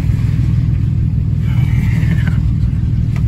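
An old two-wheel-drive truck engine rumbles loudly and steadily, revving with a rough low-end drone as it drives through a puddle, accompanied by splashing water noise throughout.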